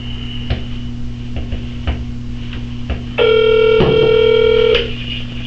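A telephone call being dialed and ringing at a police department, heard as a series of short dialing clicks and tones followed by a loud steady ringing tone over a constant electrical hum, with no one talking.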